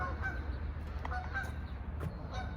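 Waterfowl on a park pond honking in a few short nasal calls, moderately distant over low outdoor rumble, with no talking.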